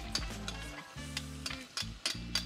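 Onions and mushrooms softening in a pan give a steady low sizzle, with intermittent stirring scrapes and light utensil clicks against the pan, close and fairly quiet.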